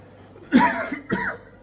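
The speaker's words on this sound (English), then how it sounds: "I've got a tickly cough" Two sharp, close tickly coughs in quick succession, the second slightly softer, with quiet room tone around them in a cafe.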